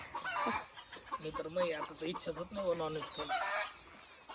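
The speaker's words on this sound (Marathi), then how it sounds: "एवढं एक एवढं खुरत भरून कोंबड्या असतात" Several chickens cluck and squawk close by in a busy, overlapping chorus, with a voice talking faintly underneath.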